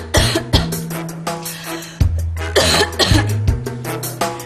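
A run of harsh, repeated coughs, several bursts in quick succession with brief pauses, close and loud, with no talking.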